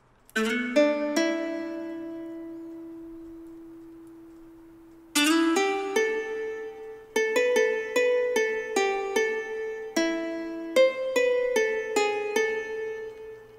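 Chinese ruan lute playing plucked notes together with another plucked instrument, with a few opening notes, a long sustained decaying tone, then a lively run of crisp repeated plucks, close and alone.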